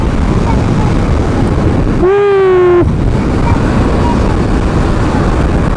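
Strong wind buffets the microphone outdoors during a family motorbike outing, a loud steady roar filling the clip, briefly broken by a short tonal whine in the middle.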